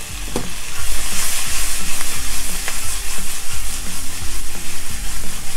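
Eggplant and vegetables stir-fry in a hot pan with sesame oil, giving a loud, steady sizzle broken by repeated stirring scrapes and tosses, with no voices.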